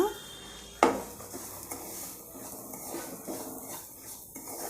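Semolina roasting for jaggery rava kesari, stirred in a pan with scraping, clinking utensil sounds, a sharp clank near the start, then steady soft stirring close by without talk.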